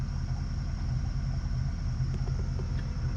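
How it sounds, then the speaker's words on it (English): A worn machine's engine runs with exhaust escaping through a rust hole in the pipe, a steady low rumbling drone with faint puffing, heard close and continuous without speech. "I do have a rust hole in the exhaust. That shouldn't be blowing that much."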